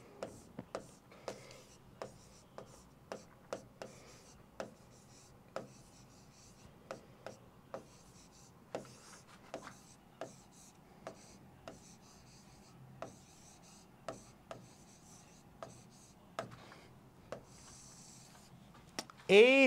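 A marker or chalk writes on a board during a university admission prep class, a string of short sharp scratching strokes at irregular intervals, close and fairly quiet, with a brief louder burst at the end.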